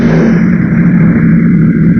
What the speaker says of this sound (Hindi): उसके बाद बाइक स्टार्ट करें